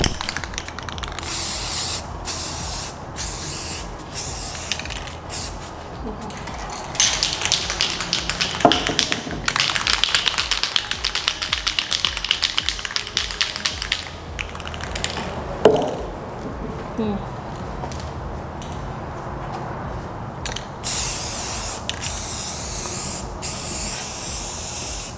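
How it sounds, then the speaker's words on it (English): An aerosol spray can hissing in long bursts while painting an ombre effect, the steady broad spray starting and stopping several times, with short taps and pauses between passes and no speech. "You'll also notice that I'm spray painting"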